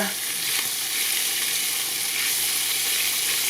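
Bacon frying in a pan for homemade chili mac, a steady hissing sizzle with constant fine crackle at close range, unbroken and free of talk.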